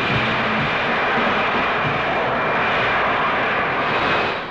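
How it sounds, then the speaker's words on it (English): Harrier jump jet engine roaring in steady, loud, broadband thrust that holds evenly throughout with no letup, close and continuous, with no voices. "The Harrier jump jet"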